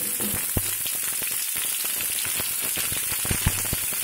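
Ivy gourds frying in a hot tempering of chana dal and urad dal, a dense continuous sizzle close by, spiked with sharp crackles and pops at irregular moments.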